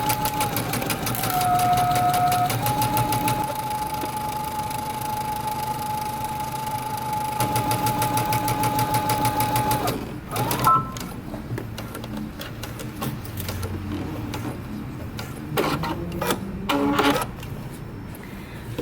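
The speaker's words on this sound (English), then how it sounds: "now we're going to stitch using 5/8 of an inch seam allowance just on our pocket and our pocket lining" A sewing machine stitches a jeans pocket and its lining in long steady rhythmic runs, stopping and starting, followed by shorter bursts and handling clicks near the end.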